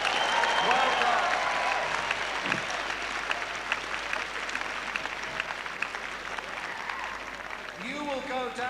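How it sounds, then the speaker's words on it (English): Audience applause fills a large hall at Spring Harvest Skegness 1994, a Christian gathering, with dense clapping that stays steady and gradually thins, and a voice is heard speaking briefly near the end. "Give yourselves a round of applause."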